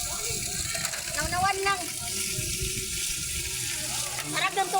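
Cold water runs steadily from a tap over dishes being washed outdoors after a picnic, a continuous splashing hiss with occasional clinks, while people talk over it.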